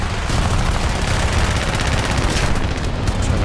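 Aircraft machine guns firing in War Thunder air battle gameplay, a loud continuous rattling burst of rapid shots over engine roar.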